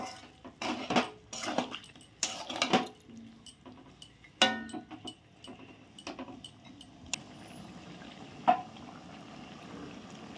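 Chicken curry stirred in a pot with a little water: a close, busy run of metal spoon scrapes and clanks against the pot over quiet bubbling, thinning to occasional taps.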